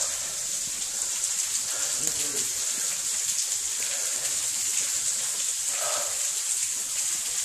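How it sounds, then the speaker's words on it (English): A waterfall near Red Byrd Arch gives a constant hissing rush of falling water, steady and moderately loud, with faint voices briefly underneath. "I like the waterfall."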